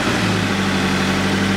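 A Toyota FR-S idles steadily close by, its engine giving a smooth, constant hum with no revving, heard alone.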